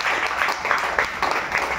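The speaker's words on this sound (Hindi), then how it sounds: "वे ताली अच्छे से बजा दो।" An audience claps its thanks at a religious gathering, a steady broadband patter of many hands sustained throughout with rhythmic swells, loud and close, with no clear speech over it.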